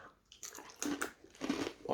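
Close, crisp bites and crunches into a thick garlic-flavoured pita chip, three or four loud crackling bursts separated by short pauses, with no talking.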